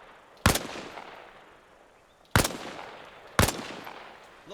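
Three sharp rifle shots crack out at targets from a prone position in the military game Arma Reforger, each loud report followed by a trailing echo that decays before the next, spaced unevenly with no speech.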